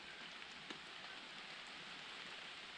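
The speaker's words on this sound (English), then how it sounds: "Hanging out, waiting for the rain to end." Steady rain patters on a mountain campsite along a trail, a continuous soft hiss of falling drops with one brief louder drip, no voices.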